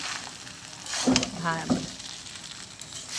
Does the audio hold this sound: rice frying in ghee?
yes